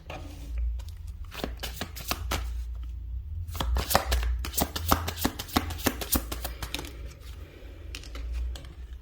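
A deck of tarot cards being shuffled by hand, a run of quick crisp riffling and tapping bursts, close and fairly quiet, with no talking.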